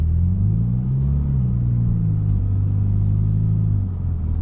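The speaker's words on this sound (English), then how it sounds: "as soon as I let up off the brake pedal, the engine reignites" A Ferrari Roma's engine restarts and runs, giving a steady, loud low-pitched rumble with a slight rise and fall in tone, close up and alone with no voices.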